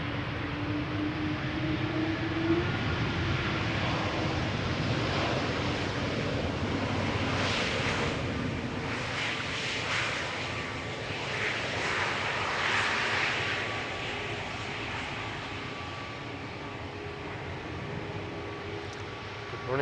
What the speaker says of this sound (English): E2 Embraer landing here,